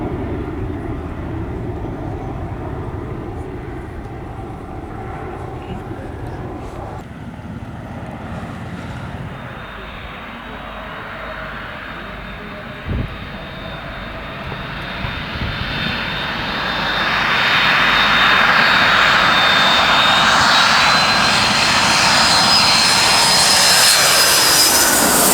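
An RNZAF Boeing 757 jet's engines drone loudly, then build into a rising, whining roar that grows steadily stronger toward the end. No one speaks over it.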